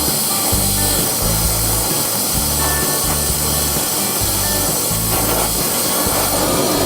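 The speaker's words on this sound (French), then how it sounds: "Je vais souder la tête." An oxy-fuel torch welds the head of a steel sculpture clamped on a workbench, giving a steady loud hiss and roar with a pulsing low rumble throughout.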